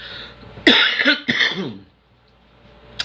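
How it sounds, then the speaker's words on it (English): A couple of harsh, close coughs, one after another, followed by quiet. "This damn cough."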